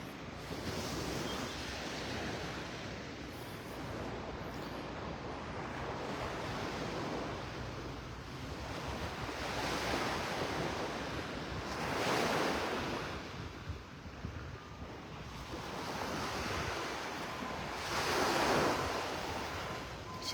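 Ocean waves rolling in on a Florida beach at Delnor-Wiggins in North Naples: a soft continuous surf wash with a few gentle swells building and receding, heard at a distance with light wind and no talking.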